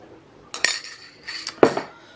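Utensils stir a salad dressed in a mayonnaise-garlic sauce thinned with a little water and herbs, giving a few close, light clinks and scrapes in two short bursts with no talking.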